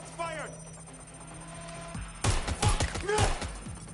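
Video game gunfire from Watch Dogs Legion, a quiet stretch followed by a loud cluster of sharp shots with talk and radio chatter over it.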